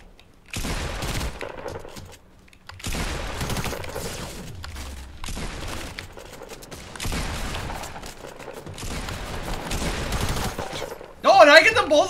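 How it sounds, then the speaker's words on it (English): Hunting rifle shots in Fortnite crack out in a string of sharp, loud bursts spaced a second or two apart, with quieter game noise between them. "Why are my hunting rifle shots so laggy, chat?"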